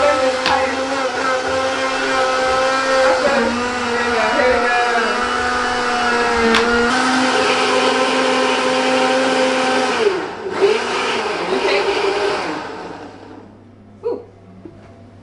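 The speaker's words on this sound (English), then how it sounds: "Now we're going to blend, so it's going to be a bit noisy." A blender whirs loudly and steadily as it purées a paste, its motor pitch shifting slightly as the load changes, then winds down to stop near the end, with faint voices afterward.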